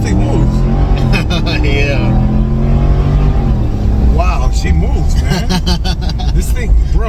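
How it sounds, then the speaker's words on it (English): A car launches at full throttle using launch control, its engine roaring loud and close and climbing through the revs with tire squeal, while people talk excitedly over the noise. "we're gonna press the launch button. Full brake. And then give it full gas."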